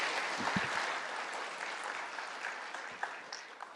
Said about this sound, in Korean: 서로 수고한 우리 모두에게 박수를 한번 쳤으면 좋겠습니다